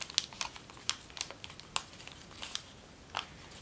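Origami paper is creased and folded by hand, giving faint, close, irregular crinkles and crisp snaps in a quiet room, with no talking.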